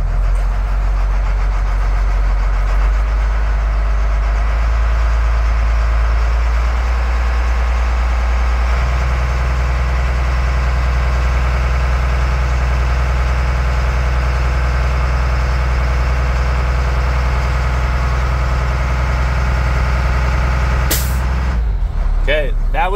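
A Class B automatic truck idles nearby with a steady, loud diesel rumble as air pressure builds, then a sharp hiss of air near the end.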